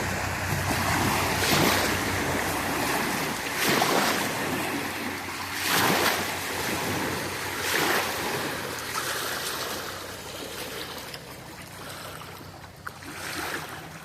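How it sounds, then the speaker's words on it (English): Small waves on the Ashley River slosh and splash against a kayak in recurring surges, with steady wind rumbling across the microphone throughout. "Hit me with the waves."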